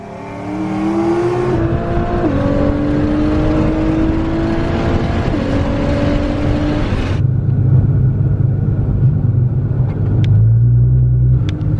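A Camaro and a motorcycle accelerate hard from a street race start, engines revving up through rising gear pulls with clear shifts, loud and close, then settling into a lower steady drone as speed holds.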